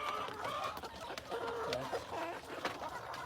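Free-range egg-laying hens on a poultry farm cluck repeatedly at close range, a busy overlapping flock chatter with a few sharper calls, heard without talk.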